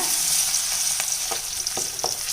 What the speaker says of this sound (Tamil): ஒன்றும் பாதியமாக தட்டி வச்சுருக்க பூண்டு பால் சேர்த்துடலாங்க